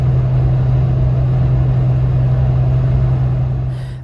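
A 2017 manual Toyota Tacoma cruises in sixth gear at 2500 RPM, heard from inside as a steady low engine drone with road noise, continuous and fairly loud, fading slightly at the end.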